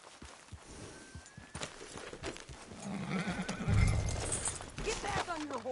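In Red Dead Redemption 2, a horse whinnies and snorts while hooves clip-clop in an uneven rhythm, close and fairly loud, with a rising stretch of movement and voices talking alongside.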